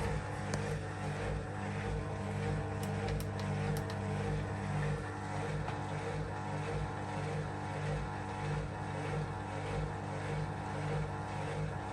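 A Beko or Miele washing machine spins a load, giving a steady whirring drone with a low rumble that holds at an even level throughout, close and alone with no talking.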